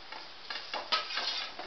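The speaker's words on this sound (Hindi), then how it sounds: "इसको फ्राई कर लेंगे।" Masala-coated arbi leaf rolls frying in a pan with cumin and asafoetida over low heat, giving a steady faint sizzle with soft stirring scrapes and light clinks of a utensil against the pan.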